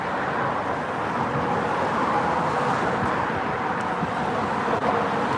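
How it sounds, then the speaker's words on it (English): Steady, dense roar of traffic rushing past on the Williamsburg Bridge in New York City at night, heard from the pedestrian walkway, a continuous close wash of engine and tire noise with no voices. "And you can hear the traffic rushing by."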